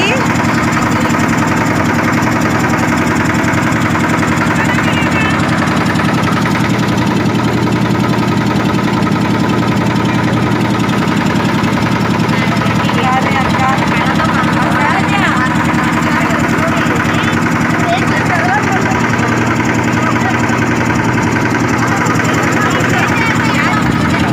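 A loud, steady boat engine drones and throbs throughout on a trip in Kashi, with people talking over it.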